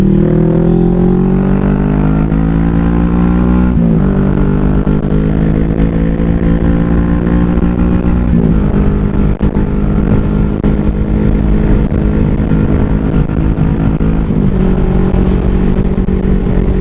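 A 2015 Kawasaki Vulcan S motorcycle engine pulls steadily up a hill with a loud, close, continuous drone, the pitch climbing through each gear and dipping at the shifts. No speech is heard.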